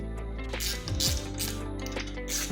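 A ratchet wrench clicks in short runs while a brake caliper is removed from a BMW i3s during accident repair, loud and close in a workshop.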